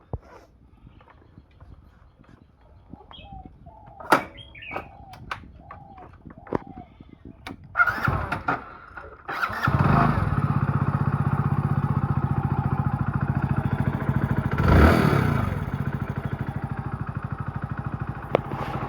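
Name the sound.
motorcycle engine starting and running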